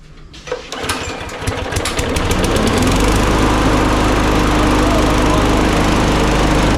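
A Briggs & Stratton lawn mower engine clamped on the bail sputters, catches and settles into a loud, steady running drone close by.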